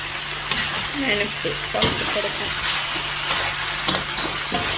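Chicken masala fries in a pan with a bright, steady sizzle, punctuated by scraping and stirring knocks from a utensil; close and fairly loud, with no talk over it.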